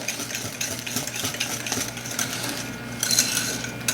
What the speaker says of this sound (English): you want to beat those eggs and sugar together for a while